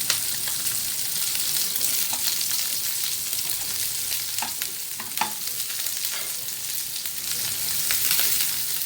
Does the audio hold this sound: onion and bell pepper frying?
yes